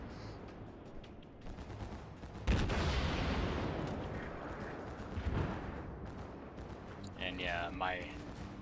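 Naval guns on the cruiser Atago in World of Warships fire a heavy, booming salvo that rolls and rumbles away, followed by a later lighter burst, with someone talking quietly underneath.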